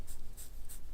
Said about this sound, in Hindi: ए इसको मैं लिख देता हूं यहाँ